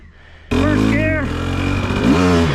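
Husqvarna TX300 two-stroke dirt bike (2023) ridden in first gear, its engine kicking in sharply and droning steadily up close, with a rising rev near the end; a voice talks over it.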